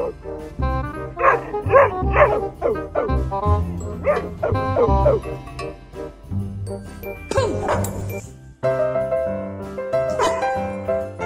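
A dog barks and yips in a lively series of short, loud, close calls, with whimpering notes and a faint jingle mixed in, and a few pauses between bursts.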